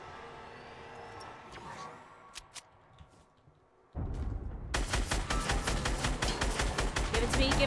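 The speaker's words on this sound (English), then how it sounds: "Oh, I'm getting shot, though, from..." Rapid bursts of gunfire from a Thanos video game erupt loud and dense after a quieter opening with a few isolated shots, the shooting continuing steadily to the end.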